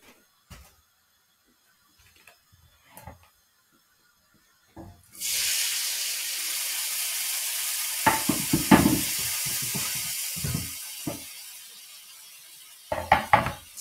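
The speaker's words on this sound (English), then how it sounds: "Sizzling." Loud, steady sizzling of tomato hitting a hot pan, with a few clinks and stirring knocks over the hiss.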